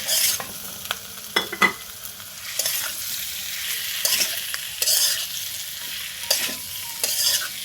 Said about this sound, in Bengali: এখন আমি মশলাটাকে ভালোভাবে কষিয়ে নেব